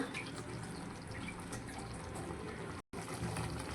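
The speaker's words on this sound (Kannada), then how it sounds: "ನಾನು ಇದಕ್ಕೆ ಚೂರು ಮಿಕ್ಸ್ ತೊಳೆದ ನೀರನ್ನೇ ಆ್ಯಡ್ ಮಾಡ್ಕೊಳ್ತಿದ್ದೇನೆ, ಬೇರೆ ನೀರು ಸೇರಿಸ್ಕೊಳ್ತಾ ಇಲ್ಲ." Water left from rinsing the mixer jar is poured into a green chicken masala, a faint steady trickle and gurgle of liquid that breaks off briefly near the end.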